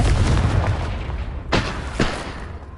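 Confringo fire spell blasts in the Hogwarts Legacy video game on PS4, a low rumbling boom followed by two sharp, loud cracking bursts about half a second apart.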